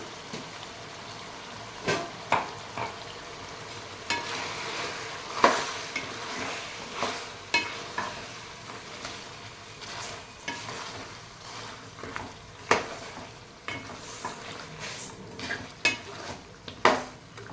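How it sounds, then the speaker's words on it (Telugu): Chicken simmering with a blended tomato and onion gravy is stirred in a pan, a soft sizzle broken by repeated sharp scrapes and clinks of a spoon against the pan, close and without talk. "మిక్సీ పట్టుకొని ఈ గ్రేవీ కూడా చికెన్లో కలిపేద్దాము."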